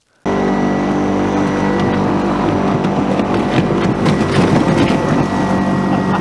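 A loud, continuous roar with a whirring propeller drone from a mini electric airboat sliding over snow holds steady throughout, close and powerful.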